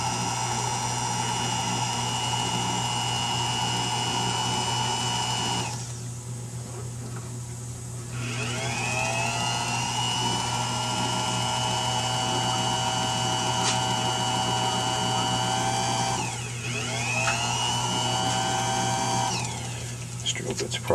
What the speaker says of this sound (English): And we're going to drill a hole